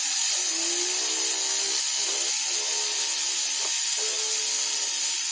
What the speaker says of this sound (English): I'm going to use my round burr extensively